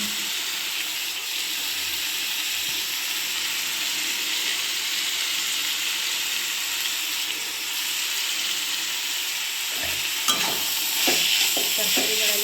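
Cabbage and beans stir-frying for village-style fried rice, a steady close sizzle with the scrape and clatter of stirring growing busier toward the end, no talk.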